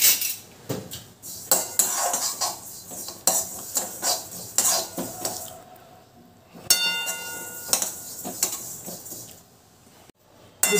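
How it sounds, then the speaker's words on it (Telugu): A spoon scrapes and clinks against a pan as three tablespoons of sesame seeds are dry roasted and stirred, in irregular close bursts of metallic scraping with short pauses and no voices. "ఒక 3 టేబుల్ స్పూన్స్ వేసుకున్నానండి నువ్వులు. డ్రై రోస్ట్ చేసుకుందాము."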